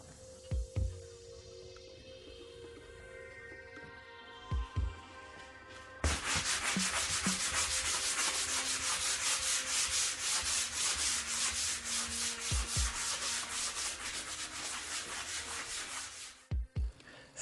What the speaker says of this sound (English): you want to make sure that you sand it down completely smooth to the wall